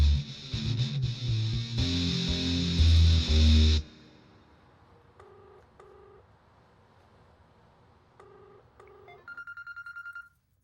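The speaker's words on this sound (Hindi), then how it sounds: "माँ जी, आपके लिए फोन है।" Loud music cuts off abruptly, then an electronic telephone ring beeps in short paired bursts, ending with a rapid warbling tone, in a Hindi-dubbed South Indian action film.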